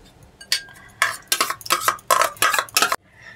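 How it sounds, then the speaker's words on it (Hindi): Yogurt is whisked in a bowl with a spoon, giving a quick series of loud, close clinking and scraping strokes in rapid bursts, then a pause. "दही को फेंट लेंगे"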